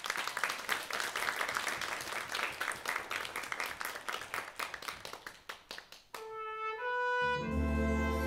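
Warm crowd applause with distinct claps rippling through, fading out after about six seconds as sustained music tones begin.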